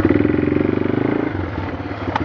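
A four-wheeler ATV engine running close by after repairs, a steady pulsing putter that settles into a lower, smoother idle-like rumble partway through.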